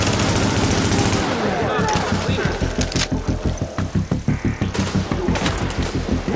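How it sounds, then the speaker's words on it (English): Automatic gunfire rattles in a rapid, loud, sustained burst during an underground operation in The Division, with fast rhythmic shots and booming impacts while a player talks over the fighting. "There's a bunch of shooting going on."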